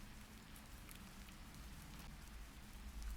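Steady rain falls outside in gloomy weather, heard as a continuous soft wash with scattered faint drop ticks, even and unbroken throughout.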